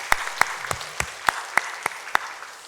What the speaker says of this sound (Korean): 우리 샤론 성가대 그리고 각자 여러 곳에서 수고하신 우리 성도님들께 박수로 격려하겠습니다